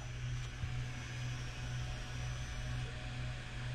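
Steady mechanical hum and whir from a Nasum A5 Pro 40W laser engraver module moving along its frame, continuous and close with no talk.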